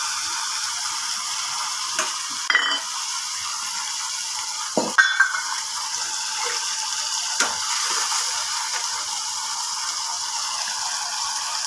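Spices with onion paste sizzle steadily in hot oil in a pan for egg bharta curry, with a constant frying hiss and a few clinks and scrapes of a stirring spoon at intervals.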